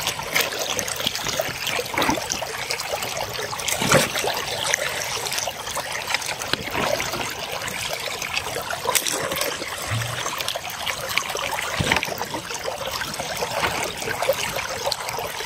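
Water rushes steadily through a prototype gold prospecting sluice channel, a continuous trickling, splashing flow at an even level, with occasional small knocks and no talk.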